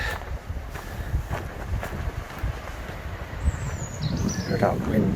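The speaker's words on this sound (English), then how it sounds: "Hear that wind" Gusting wind buffeting the microphone on a high point in the Jura canton of Switzerland, a rough low rumble with irregular bursts and faint whistling, with speech over it.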